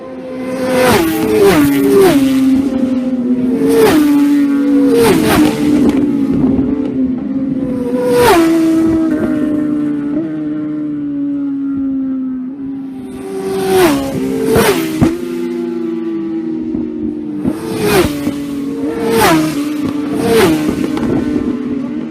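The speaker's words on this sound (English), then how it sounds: "let's take a look now at the Superbikes starting their first flying lap" Superbike motorcycles at the Isle of Man TT scream past on a flying lap. Each high-revving engine climbs through sharp gear changes in repeated rising bursts, loud and close, with no talking.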